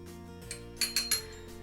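A metal lid clanks down onto a saucepan of sorrel soup in chicken broth with a few quick clinks, close and fairly quiet, over a steady low hum.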